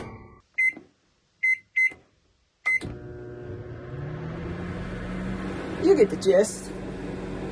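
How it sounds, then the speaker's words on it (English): An RV microwave oven heating water beeps several times as it is set, then hums steadily and moderately close as it runs, with a voice speaking briefly over it near the end. "For instance, I can use the microwave. For demonstration purposes, I'm heating up some water."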